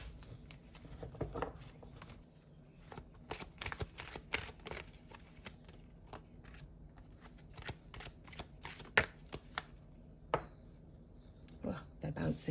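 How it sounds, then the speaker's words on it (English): A tarot deck is shuffled by hand, close and quiet, with soft riffling and patting bursts that come irregularly throughout and a few sharper card slaps. "I'm going to cleanse the deck and shuffle out."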